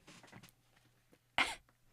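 A single sharp cough bursts straight into a close microphone, loud and brief, after a stretch of quiet room noise and faint movement.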